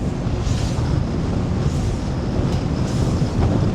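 Strong wind roars and buffets the microphone in a steady, rumbling rush, with no voices.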